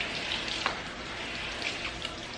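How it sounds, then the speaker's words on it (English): A garden hose rinses a car's tire, rim and wheel well, a steady broad hiss of spraying water with faint splashes, fairly quiet and with no talking. "Start rinsing off the tire, rinsing off the rim."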